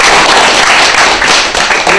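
Dense, loud applause from a village meeting audience clapping for their village head, a continuous crackling wash of many hands with no talk over it.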